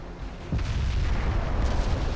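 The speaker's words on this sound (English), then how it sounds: "there's somebody shooting at me from over here" Naval gunfire in the Ultimate Admiral Dreadnoughts battleship game lands on a ship, a sudden loud deep boom that swells into a sustained rumbling blast.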